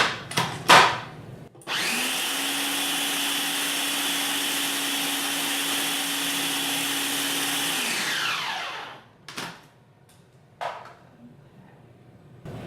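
A food processor whirs loudly for about six seconds blending a raw vegan pumpkin pie crust, with a steady motor whine winding down at the end, set between scraping and clattering knocks of the bowl.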